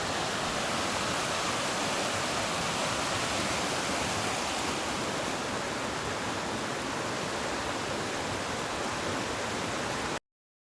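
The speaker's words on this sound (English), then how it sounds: "There's a creek down here right beside it." Steady, dense rush of creek water running right beside a forest trail near Muddy Fork on the way to Ramona Falls, a continuous broadband roar close by with no voices over it.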